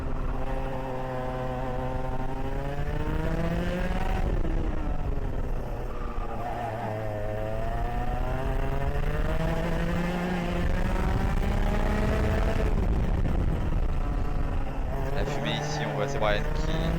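An X30 competition kart engine races hard, its high buzzing note rising and falling through shifts and corners, loud and continuous close to the driver, with brief dips as the throttle lifts.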